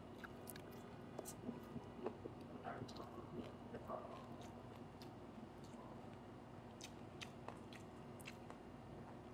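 Crunchy chewing of crispy fried pork belly, close and steady bites over a low background hum, with no talking.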